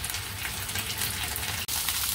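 Dumplings pan-fry over high heat as their water cooks off, giving a steady, close, dense sizzle with no talk, broken only by one brief dropout near the end.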